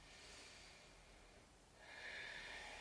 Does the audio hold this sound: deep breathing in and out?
yes